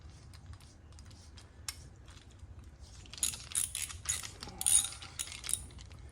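A ratchet wrench runs a lug nut on a stroker Mustang, giving quiet rapid clicking that turns into louder, busier ratcheting bursts in the second half, heard close over a low background hum.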